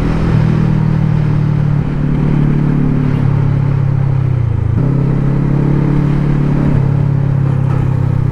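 A very light motorcycle rides along with a loud, steady engine drone that steps up and down in pitch every second or two, as if shifting through gears, with no voices over it.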